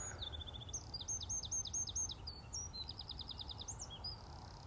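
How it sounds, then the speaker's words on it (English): A songbird in a bluebell wood sings clear, rapid repeated phrases of high whistled notes, bright and fairly close over a faint low background hum. "an unassuming bird, the sound is really elegantly beautiful"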